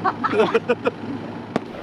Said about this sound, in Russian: закончился этот прекрасный день под залпы великолепного салюта от организаторов